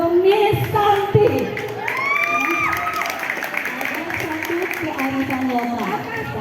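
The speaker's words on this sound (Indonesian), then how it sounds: "Tepuk tangan untuk Miss Santi." An audience at a school celebration event at a Jakarta junior high claps and cheers, a continuous mix of clapping and crowd noise with voices talking and calling out over it.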